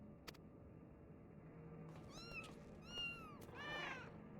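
Several cats meow in Final Fantasy XIV, a few short rising-and-falling calls at moderate distance over a steady game background hum, ending in a longer drawn-out meow.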